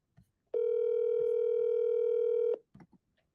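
An outgoing phone call rings back once as a single loud steady tone lasting about two seconds, with faint clicks and brief handling noises before and after it.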